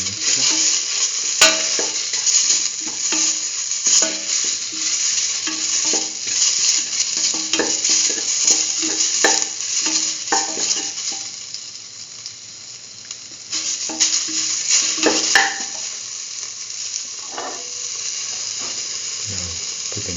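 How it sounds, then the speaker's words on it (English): Mustard paste being stirred into a curried lentil stew mixture with fenugreek leaves, a steady close scraping and clattering of the utensil with a faint sizzle underneath, continuing throughout with no talk. "Mix the mustard paste with the rest of the mixture."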